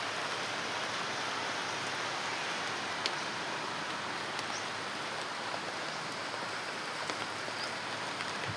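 Rain falls steadily and evenly, a soft, constant hiss of drops on surfaces with a few faint ticks of individual drops, held at an even, moderate level with no voices.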